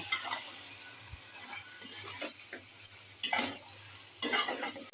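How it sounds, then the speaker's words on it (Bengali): Meat fries in oil for a roast with a continuous close sizzle, and a spoon scrapes and stirs it in short bursts against the pan. "এই তো মাংসটা দিয়ে দিয়েছি। এখন কিন্তু নাড়া দিয়ে নেব।"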